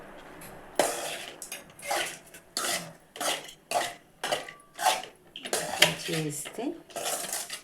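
Mango pulihora rice being mixed by hand in a bowl, repeated soft scraping and clinking strokes in an uneven rhythm, close up, with a voice speaking between and over them.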